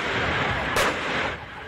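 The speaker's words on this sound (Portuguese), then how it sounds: "Nesse momento, dá para ouvir vários disparos." Gunfire during a police shootout with an armed attacker near a staircase: one sharp crack stands out against a dense, steady roar of background noise.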